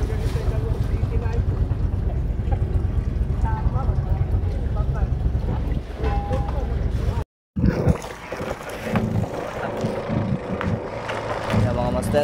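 A heavy engine of a passenger boat on the Maconacon route off Santa Ana, Cagayan, rumbles loudly and continuously, with wind and water noise, briefly cut out by a short gap before the drone resumes.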